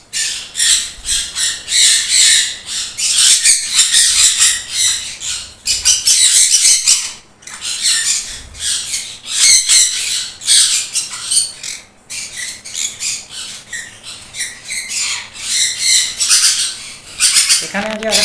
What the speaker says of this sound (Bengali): pineapple কুনুর full adult breeding pair